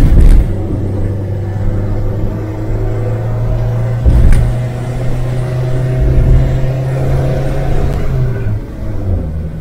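A Renault 4L drives along and accelerates, its engine giving a steady, close, low rumble with a sustained drone that rises slightly as it pulls, with no talking.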